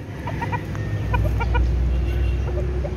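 A chicken clucks nearby in short, repeated bursts over a low outdoor hum, loud and close, with no talking.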